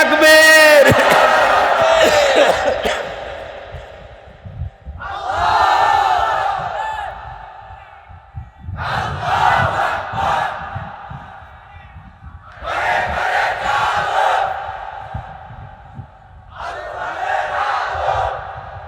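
Large gathering at an Islamic sermon answering a preacher's call with takbir, about five loud, drawn-out collective shouts separated by short pauses, the first overlapped by a single voice.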